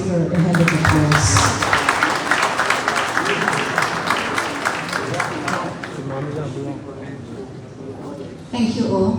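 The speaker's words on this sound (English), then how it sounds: "Can we please give her a hand of applause?" An audience at a government town hall launch applauds the EU ambassador to Liberia, a loud, dense burst of clapping that gradually thins, with voices and crowd noise mixed in throughout.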